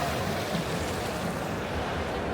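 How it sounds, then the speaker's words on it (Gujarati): Water runs over stones set in a landscaped water feature beneath a large building near Tower Bridge in London, a steady, close rushing wash that fills the whole clip with no voices. "જે પાણી આમ વહી રહ્યું છે"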